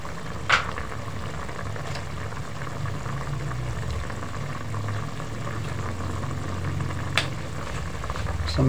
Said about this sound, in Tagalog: So, yan na po. Kumukulo na.